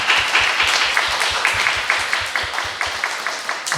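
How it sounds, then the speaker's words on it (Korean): A church congregation claps during a Sunday morning worship service to welcome a returning member, with steady applause that is fairly loud and close and keeps going for the whole stretch. "우리 박수로 환영하겠습니다."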